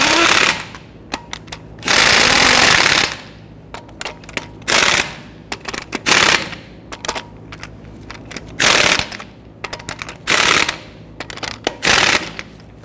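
An impact power tool hammers lug nuts onto the wheel of a Ford Taurus in loud, rapid rattling bursts of one to two seconds, repeated several times with short pauses between.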